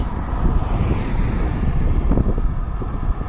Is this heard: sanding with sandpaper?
no